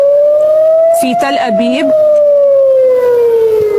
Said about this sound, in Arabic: صفارات الإنذار إذن تدوي الآن